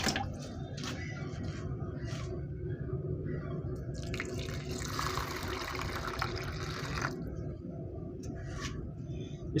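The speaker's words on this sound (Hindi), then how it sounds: "अभी डाल दूंगा पानी।" Water pours steadily from a vessel onto dry lentils in a container for soaking, a continuous splashing, dripping stream close by, with brief speech near the start and end.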